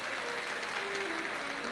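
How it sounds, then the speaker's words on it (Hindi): Audience clapping fills a Shiv Mahapuran katha gathering, a dense, steady wash of applause sustained for the whole short stretch without a break. "एक बार यजमान परिवार श्री अमरजीत जी मेहता जी के लिए जोरदार ताली बजाकर स्वागत वंदन अभिनंदन"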